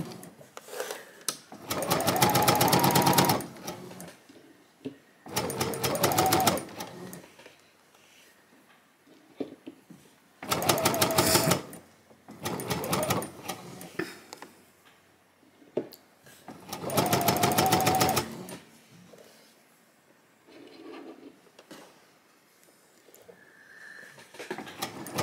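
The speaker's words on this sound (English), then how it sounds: "you sew the rest of the seam like so" A sewing machine stitches the rest of a garment seam at a set stitch length, running in about five loud, steady bursts separated by pauses with quieter handling sounds between.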